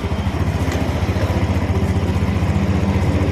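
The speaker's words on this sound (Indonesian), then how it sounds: "Nah untuk suara klepnya sudah bisa didengarkan ya, sudah lebih halus" A small motorcycle engine idles close by after a valve adjustment and carburetor service, ticking over in an even, rapid pulse with light mechanical clatter.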